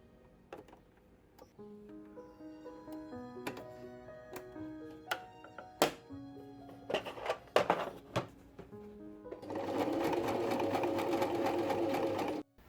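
A sewing machine runs a second seam with a shorter stitch over basting on a pair of fitted trousers. After a stretch of tonal background sounds it whirs steadily and loudly for about three seconds near the end.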